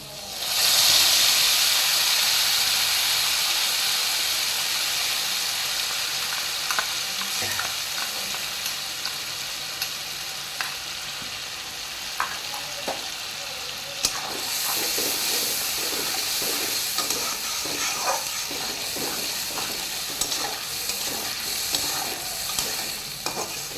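Ground spice paste hits a hot, oily pan of fried potatoes for a bata fish curry, setting off a loud hissing sizzle that slowly fades into a steady fry broken by frequent scraping stir clicks.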